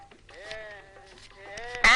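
A goat being tied up after a village sale bleats once, a wavering nasal cry of moderate loudness, followed by a sharp loud knock at the very end.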